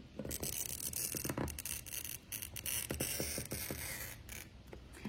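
A glass cutter scores a smooth, even line across glass: a faint, steady scratchy hiss with small clicks, close up and alone.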